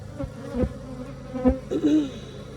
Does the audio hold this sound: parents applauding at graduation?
no